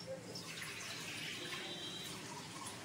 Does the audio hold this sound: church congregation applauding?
no